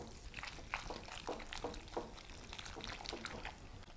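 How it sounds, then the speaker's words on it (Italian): Pasta being stirred in a bowl with butter, starchy cooking water and Parmesan, giving quiet wet squelching and sloshing sounds in irregular bursts, faint and close. "E adesso mischio bene con un po' di acqua di cottura."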